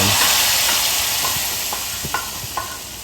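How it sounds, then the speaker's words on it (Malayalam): A curry-leaf tempering is poured into a sardine curry and sizzles, a continuous hiss with a few small pops that slowly fades. "ഇത് എന്ത് നേരെ നമ്മുടെ കറിയിലേക്ക് ഒഴിച്ചു കൊടുക്കാൻ വേണ്ടി പോവുകയാണ്"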